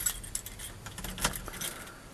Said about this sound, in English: All right, keys.